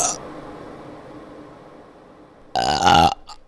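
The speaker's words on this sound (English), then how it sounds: "Oh, how I love to burp!" A loud, close burp bursts out near the end of a stage-musical number from Willy Wonka, after a stretch of quiet low background.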